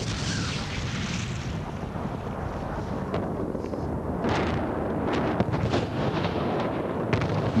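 Bombing of Baghdad in archival war footage: a dense, continuous roar of distant explosions and booming blasts, with a sharper crack now and then, forms a thick wall of noise throughout.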